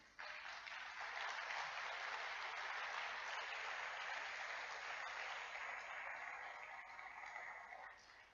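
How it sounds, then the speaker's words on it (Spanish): A church congregation claps steadily and fairly faintly for about eight seconds, a dense, even patter of applause that fades slightly at the end, with no talking over it. "Dé un aplauso al Señor"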